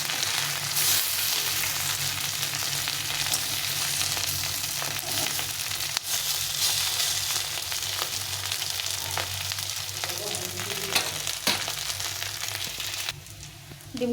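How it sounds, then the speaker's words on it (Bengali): Katla fish roe coated in rice flour fries in hot oil in a pan, a steady dense sizzle that continues throughout with occasional stirring clicks and no talking. "ডিমগুলোকে ভালো করে ভেজে নিতে হবে।"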